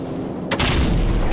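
A heavy aircraft cannon shot from the Call of Duty 4 Modern Warfare gunship mission booms once, a sudden loud blast followed by a rumbling roar.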